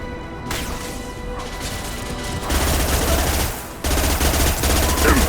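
Rapid automatic gunfire in Mass Effect 2, with dense volleys of close, loud shots that run continuously, jump in intensity midway, pause briefly, then resume at full force.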